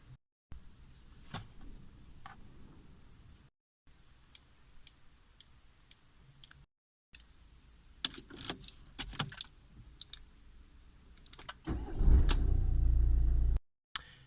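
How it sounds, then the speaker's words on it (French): A manual-gearbox car being started during a driving lesson: keys jingle and small clicks come first, then the engine cranks and catches near the end into a loud, close, low rumbling idle. "je démarre le moteur"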